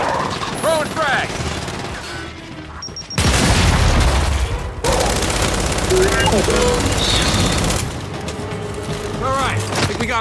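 A frag grenade explodes amid gunfire in the video game Gears of War 5. Rapid bursts of shots and a loud blast dominate the middle, with voices calling out over the combat.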